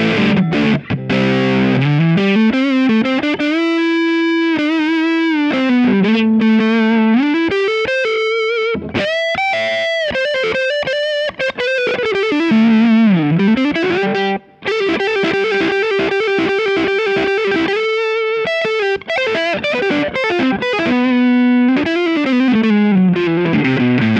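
Distorted electric guitar on a Sire S7 with Lace Sensor Gold pickups, a long run of gliding melodic lines and bends, loud and continuous with no talk.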